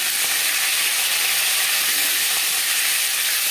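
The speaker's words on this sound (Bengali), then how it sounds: "আমি একটু হালকা করেই ভেজে নেব" Snakehead fish frying lightly in a hot pan gives a steady, dense sizzle and hiss of oil, loud and close, running unbroken throughout with no talking.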